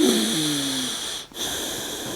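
Forced, whistling breaths through the right nostril with the left held closed, a long wheezy inhale then a brief pause before the airflow resumes, close to the listener.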